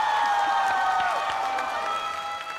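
A studio audience at a street dance competition show applauds and cheers, with crowd clapping under a lingering musical tone that fades toward the end.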